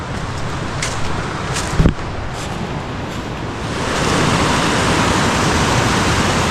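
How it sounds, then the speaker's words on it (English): The right fork of the Davidson River rushes swiftly in a steady, broadband roar close by, with a brief thump near two seconds and the flow growing louder and fuller toward the end. "This is the right fork of the Davidson River."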